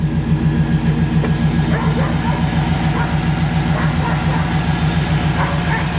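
A 5.3 LS V8 in a 1955 Chevy 3100 step-side truck idles with a steady, low, even rumble, close and continuous throughout.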